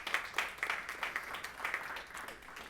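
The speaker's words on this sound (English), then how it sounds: "You don't have to clap." A small audience at a company gathering claps briefly, a quiet, sparse run of hand claps that fades out, with no talk over it.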